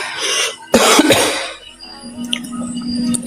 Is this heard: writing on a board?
no